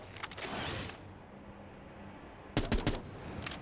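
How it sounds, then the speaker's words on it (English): A dragon's tail reloading a weapon in a video game: two quick bursts of metallic clicks and clacks, one near the start and a louder cluster near the end, separated by a quiet stretch. "the tail reloads the weapon for you"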